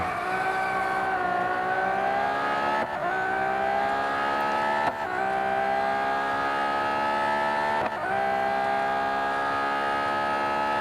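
Sustained racing engine roar from a 1,050-horsepower Ferrari FXX K Evo in Real Racing 3, loud and close, the pitch climbing steadily then dropping at three distinct gear changes.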